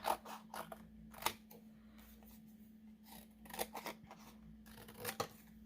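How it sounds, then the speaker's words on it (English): Scissors cut out paper pieces for a homemade rainstick, a faint series of close, uneven snips and rustles over a low steady hum. "we're going to cut these out"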